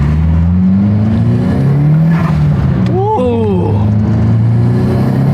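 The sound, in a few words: JDM car with Nissan SR engine and stock turbo accelerating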